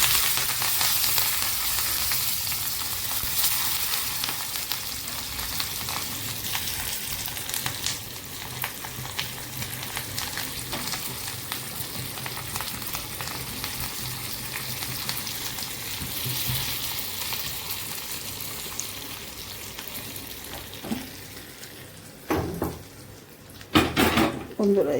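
Mustard seeds and curry leaves sizzle steadily in hot oil for a tempering, a loud continuous frying hiss close up, with some utensil clatter near the end.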